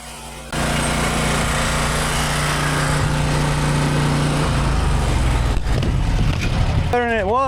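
A lawn mower engine runs loud and steady, close by and constant across the whole stretch, with a brief shift near the end.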